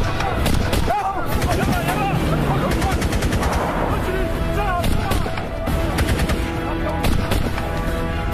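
Gunfire in a war film: dense, continuous bursts of automatic fire crackle loudly throughout, with scattered single shots and shouting voices mixed in.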